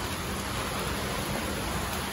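Steady rain hiss, even and unbroken, moderately quiet with no voices.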